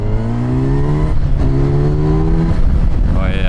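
A Kawasaki Versys 1100 inline-four motorcycle in road mode revs hard under acceleration, the engine note climbing in pitch, dipping briefly with a gear change, then rising again over steady wind rush; a rider talks over it.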